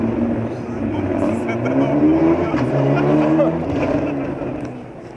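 A rally car races past on a night special stage at Rallye Lagos, Portugal, its engine note rising and falling as it nears and fades, with a commentator talking over it.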